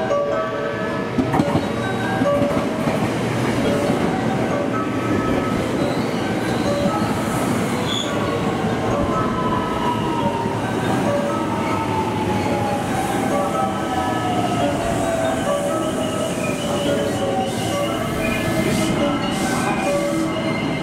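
A train pulls into platform 4 at JR Amagasaki Station during evening rush, with a loud, steady rumble of wheels on rails and a long, high squeal of brakes sliding downward in pitch.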